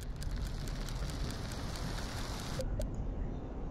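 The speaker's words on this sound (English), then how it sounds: "It's raining." A dense, even wash of rain in the video game Black & White 2 rushes with a low rumbling undertone, constant and close, with no voices.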